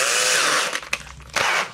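A power drill fitted with a 3/6 bit bores holes in a 3D-printed part for a model-car mirror charging station, giving a loud whining burst that breaks into short, uneven pulses as the bit bites.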